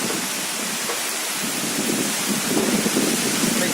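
Heavy rain pours steadily across a palm plantation during a storm in Sakon Nakhon, a dense, continuous hiss with gusting wind and low rumbling beneath.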